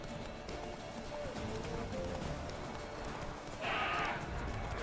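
Roach, the horse in The Witcher 3: Wild Hunt on PS4, gallops with a steady, rapid clip-clop of hooves over continuous game ambience, swelling briefly near the end.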